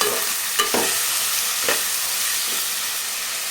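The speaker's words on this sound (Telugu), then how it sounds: "చికెన్ వేసిన తర్వాత అంతా ఒకసారి ఇలా కలుపుకోవాలి" Chicken frying in a pan with ginger garlic paste, a constant loud sizzle with a few scraping stirs of the spoon against the pan, close and without voices.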